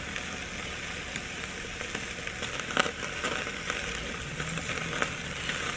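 Chuck roast searing over a hot charcoal fire, a steady close sizzle and hiss with occasional small crackles and pops.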